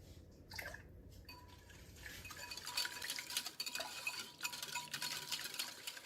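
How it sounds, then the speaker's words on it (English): Melted coconut oil and vanilla extract being whisked into a quick bread batter in a bowl, quiet wet stirring with rapid light clinks of the whisk against the bowl, close and continuous, with no voices. "I'm just going to whisk the melted coconut oil into our mixture, along with 2 teaspoons of vanilla extract"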